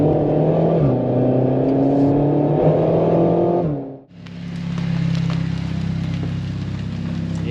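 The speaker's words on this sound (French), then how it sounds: "on entend bien les passages de rapport" A Renault Megane 4 RS accelerates hard with its engine pitch climbing, then dips sharply at a gear change before pulling again, heard loud and close.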